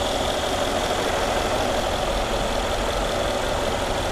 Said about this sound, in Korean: 엔진 소리도 일정하네요